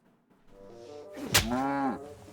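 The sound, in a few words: cow mooing in video game Kingdom Come: Deliverance II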